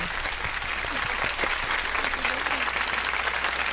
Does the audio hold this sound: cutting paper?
no